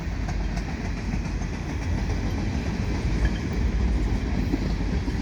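A CP freight train with foreign-power locomotives and ballast hopper cars passes in Montreal as a continuous rolling rumble of wheels on rails, heard from a short distance with no talking.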